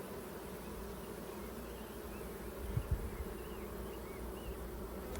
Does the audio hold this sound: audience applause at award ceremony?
no